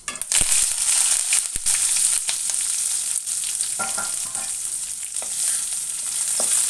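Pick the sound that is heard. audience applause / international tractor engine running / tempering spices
tempering spices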